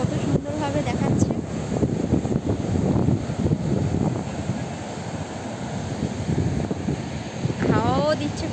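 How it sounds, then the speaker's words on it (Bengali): Sea wind at Digha beach buffets the microphone in a constant, rough rumble throughout, with people talking over it. "হাওয়াও দিচ্ছে খুব সুন্দর।"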